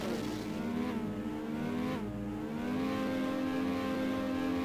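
Race car engine from the Trackmania DS racing game, a steady loud whine holding a high pitch and rising through gear changes with a brief dip near two seconds, running continuously without talk.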